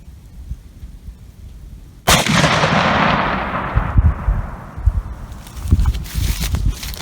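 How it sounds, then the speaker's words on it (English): A single loud, close gunshot from a CVA muzzleloader rifle fired offhand in the West Virginia woods during muzzleloader season, booming sharply and then rolling away in a long fading echo, with footsteps and rustling afterward. "he's trying his new CVA muzzleloader for the first time"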